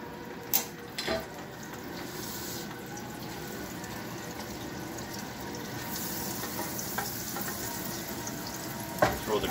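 Butter frying in a pan while shrimp and garlic are cooked for a noodle dish, a steady, soft, continuous sizzle with a few small clatters, no talking.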